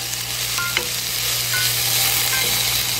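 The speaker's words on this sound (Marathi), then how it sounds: "कांदा झालाय परतून" Chopped onion sautés in a pan for Maharashtrian garlic spinach bhaji, a close, steady sizzle with a few light scrapes and clinks of stirring.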